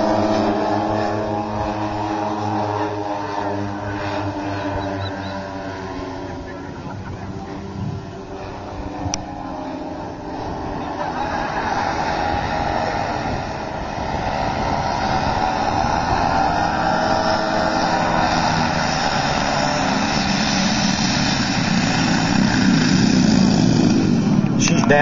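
A B-29 bomber with its wheels down flies in to land, its piston engines droning loud and steady and growing heavier toward the end, while a voice talks over the noise.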